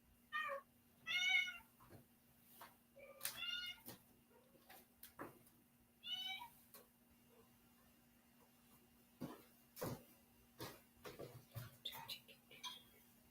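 A domestic cat gives several short meows in bursts early on, fairly quiet in a kitchen, followed by faint clinks and small tapping sounds.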